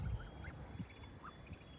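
Month-old Kholmogory goslings on a farm give faint, scattered short calls and honks over a steady background hiss, distant and quiet, with no talk.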